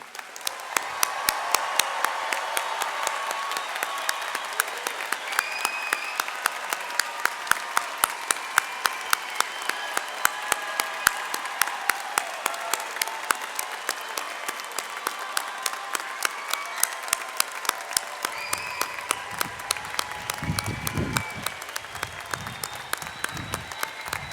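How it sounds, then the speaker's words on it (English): Families and friends applaud a graduating engineering class at a 2019 university commencement, sustained clapping with some distinct sharp claps that keeps going for over twenty seconds in a large hall, with a few voices heard near the end. "I would like to invite the entire class to stand while our families and friends join me in applauding this outstanding cohort"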